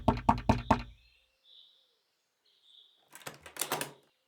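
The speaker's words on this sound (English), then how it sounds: "You can knock on a door." A wooden door is knocked on with a quick run of four sharp raps, close and clear, and after a short pause a second faster burst of knocks follows.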